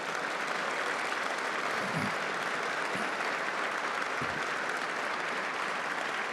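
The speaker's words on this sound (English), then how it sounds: "So give your parents a round of applause while we're standing here" Gala crowd at a science awards evening giving standing applause for parents, a loud, continuous roar of many hands clapping that fills the room throughout, with a few low thumps mixed in.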